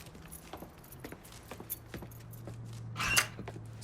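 Truck keys jangle as they are picked up in Mafia 3, a short metallic rattle that swells near the end over a low steady hum and scattered quiet clicks.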